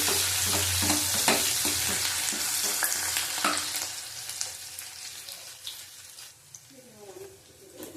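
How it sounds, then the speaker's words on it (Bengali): Steady sizzle of chopped onions frying in oil in a pan, with stirring scrapes and occasional clinks, close and continuous; a voice murmurs briefly near the end. "পেঁয়াজ কুচি দিলাম, ভালো করে ভেজে নেব।"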